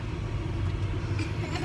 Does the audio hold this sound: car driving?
yes